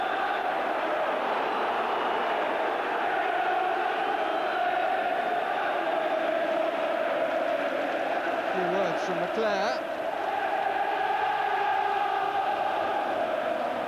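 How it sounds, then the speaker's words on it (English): Manchester United supporters boo from the stands at the 1990 FA Cup semi-final against Oldham Athletic, a sustained, dense crowd roar that runs steadily throughout beneath a commentator talking. "But the noise is coming from the Manchester United support"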